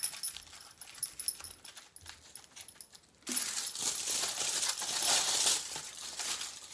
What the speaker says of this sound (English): we'll start with your aluminium foil, and we're just going to scrunch that into a bowl